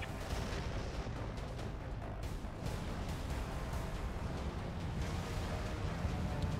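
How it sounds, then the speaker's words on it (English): A city being bombed in the ICBM video game: a dense, continuous roar of rumbling explosions and artillery-like blasts, steady and loud throughout with no clear breaks and no talking. "A city has been bombed."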